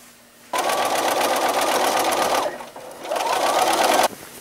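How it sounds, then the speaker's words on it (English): Sewing machine stitching a quilt's pieced border seam, two loud steady runs of rapid needle chatter separated by a brief pause, with no voices. "finish sewing this seam from here to the end"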